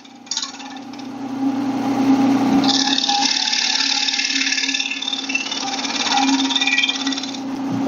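A wood lathe spins a plate blank while a tool cuts a tenon, a steady motor hum with a brighter scraping rasp building as the cutter bites in, continuing close and unbroken.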